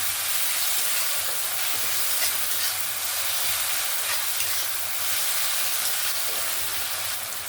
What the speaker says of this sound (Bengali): টমেটো আর পেঁয়াজটাকে ভালো করে একটু নাড়াচাড়া করে নিলাম।